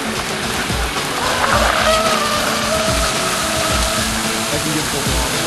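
A Hornet F1 RC tunnel hull boat runs at full throttle, its motor a steady, loud high-pitched buzz with water spray hiss throughout, with faint talk in the background.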